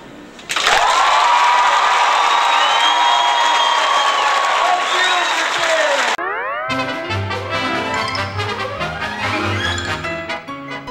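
Cruise ship audience applauding and cheering a comedy performer, a loud sustained wave of clapping and whoops, followed by upbeat music.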